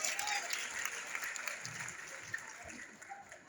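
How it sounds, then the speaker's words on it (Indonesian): Congregation applause at a church Christmas gathering, a dense, even wash of many hands clapping together, with faint voices underneath. "Tepuk tangan buat Tuhan Yesus."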